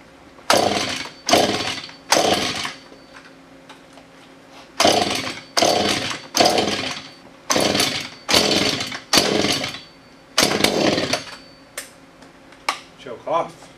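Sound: Husqvarna 435 chainsaw starting and running

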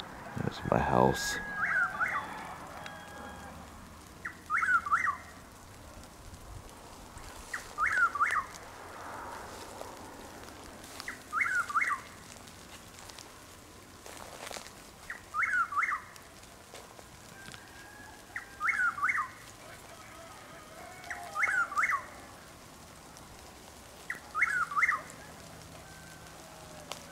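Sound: Chuck-will's-widow calling

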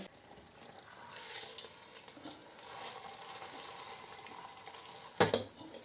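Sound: meat sizzling while frying

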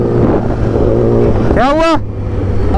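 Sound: superbike engine sound on the road

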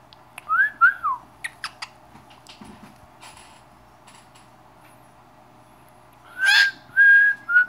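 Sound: pet bird whistling

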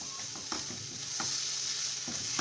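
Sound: stirring filling in hot pan

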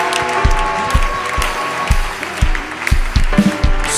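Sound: congregation applauding to acclaim Jesus

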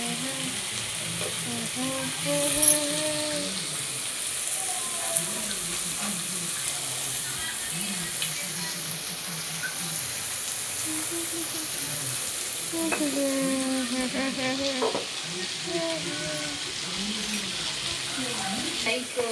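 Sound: stir-frying capsicum palya while cooking

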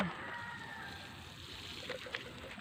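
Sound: pouring river water to water plants

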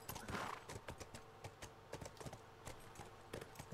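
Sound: horse hooves clip-clopping in The Last of Us Part II video game

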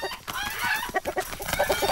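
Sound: chickens clucking in the video game Lakeview Cabin

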